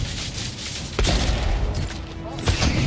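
A crit gunshot in the video game Avowed, a few muffled booming shots and impacts over steady game ambience, with a voice talking over it.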